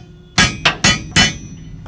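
A hammer strikes a bolt on aircraft landing gear, four sharp metallic blows in quick uneven succession, loud and close with a brief ringing decay after each.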